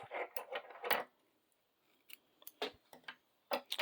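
Scissors snip off crochet yarn after finishing a granny square, giving a few close, crisp cuts in quick clusters with short quiet gaps between them.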